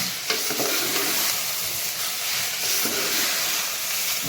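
Chopped tomatoes stirred in a hot frying pan for tomato rice, with a steady dense sizzling hiss and occasional soft scrapes of a spoon, close up and without speech.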